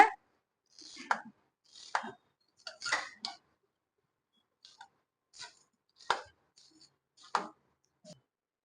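A spoon stirs vermicelli and water in a bowl, giving sparse, quiet clinks and scrapes at irregular intervals over near silence.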